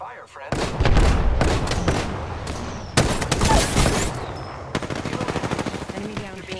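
Gunfire in Apex Legends, loud close bursts of rapid automatic shots in several volleys with brief gaps, ending in a quicker rattling string, dense and harsh.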